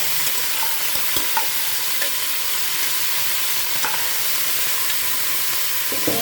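Chicken pieces sizzle steadily in a hot pan for a Visayan tinola, a constant frying hiss with occasional scraping stirs and light clanks, close and alone without voices.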